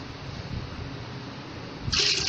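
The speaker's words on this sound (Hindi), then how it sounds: "2 किलो पानी और मैंने ऐड किया है।" Water pours steadily into a cooking pot for a mulberry sharbat, a continuous close gushing rush that grows brighter and louder near the end.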